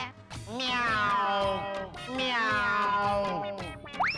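A person imitates a cat with two long, wavering meows, close to the mic and clear, with a short breath between them.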